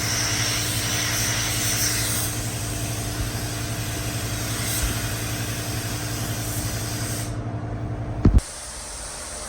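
Spray gun laying a base coat on a Peterbilt 379 truck, a steady loud hiss over an idling engine hum that cuts off near the end with a sharp click.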